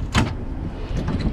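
Door of a Ram ProMaster wheelchair-accessible van opening, a short close mechanical swish and thud with a brief slide, heard alone without talk.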